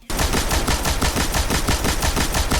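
Rapid, evenly spaced shots from the Last Word custom hand cannon in Destiny 2, a loud continuous burst of about two dozen cracks with no pauses.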